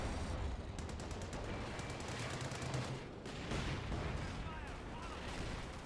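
An artillery barrage in a combat video game, heard as dense, continuous rumbling and rapid gunfire bursts at a moderate distance.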